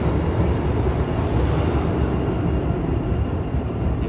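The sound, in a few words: LRT streetcar train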